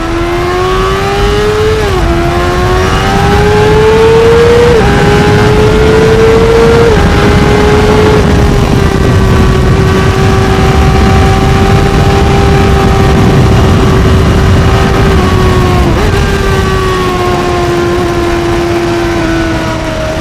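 Honda CBR600RR motorcycle riding through a tunnel on a wet road at night, its engine a loud, close, sustained howl that rises with brief dips as gears change, echoing continuously with no talk.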